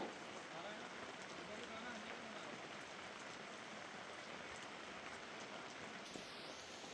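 Steady rain falls in the hills of Mukteshwar, Uttarakhand, a continuous, even hiss of drops on surfaces throughout, fairly quiet and unbroken.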